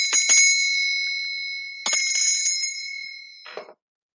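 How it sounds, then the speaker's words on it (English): A small Scottish bell rung at a ritual altar, two clear bright rings each followed by a long, sustained shimmering tone, then a short final tap that is cut off, loud and close with no talking. "Scottish bell."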